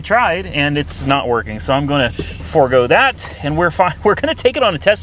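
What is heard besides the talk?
No distinct noise like a dog, phone or traffic.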